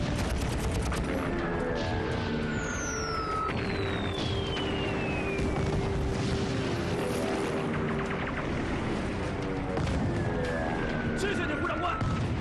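Military warplanes sent over a battlefield in a Chinese war drama, their whining engines sweeping downward in pitch several times amid a steady din of distant gunfire and booms.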